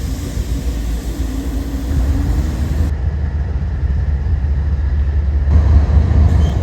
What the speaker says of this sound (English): a Kansas City Southern locomotive was pulling a manifest into the yard